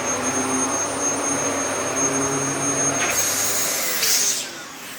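A yellow Dyson DC14 upright vacuum cleaner runs loud and close with a steady roaring whoosh and a high whine, changing pitch briefly near the end as airflow shifts, with no talk.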